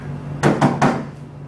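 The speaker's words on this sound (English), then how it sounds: "she heard a knock at the door." Three evenly spaced knocks on a wooden door, close and solid, over a low steady background hum, with a faint fourth tap after a short pause.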